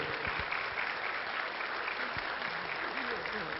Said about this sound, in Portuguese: uma salva de palmas para o Júlio que está aqui